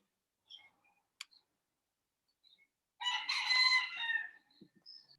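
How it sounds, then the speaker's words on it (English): Rooster crowing once, fairly close and loud, with scattered soft chicken clucks and a sharp click before it, in a quiet outdoor setting. "You got some healthy chickens."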